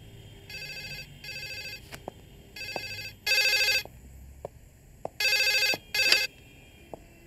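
A telephone rings in repeated short electronic bursts with brief gaps, loud and close, with a few faint clicks between rings.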